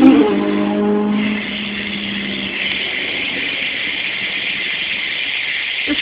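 A steady mechanical buzz drones on without a break from the rear hub of a 2011 Stolen Stereo BMX bike, starting slightly louder and then holding an even level.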